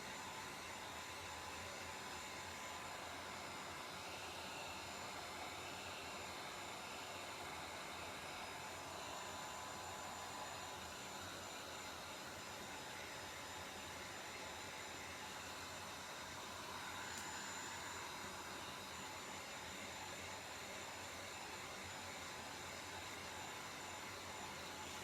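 A heat dryer blows steadily to dry paint on a cup, a constant, even airy whir lasting the whole stretch with no breaks and no talking.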